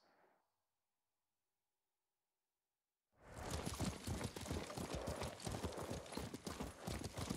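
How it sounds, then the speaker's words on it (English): Rapid, steady clip-clop of horse hooves in the video game Ghost of Tsushima begins after a short silence and continues loudly, a galloping rhythm close by. "What a good horse."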